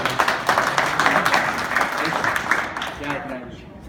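A room of people at a BNI business networking meeting applauds for the introduced speaker, a dense burst of clapping that gradually thins and fades as a voice starts talking over the tail.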